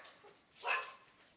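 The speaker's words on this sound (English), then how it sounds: "That's my dog." A pet dog gives a single short bark, faint and somewhat distant, heard alone in an otherwise quiet room.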